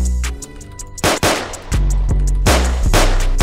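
Bursts of gunfire in a ROBLOX game roleplay, loud and close, with a sharp shot near the start, a dense volley around one second and another sustained spell of firing from about two and a half seconds on.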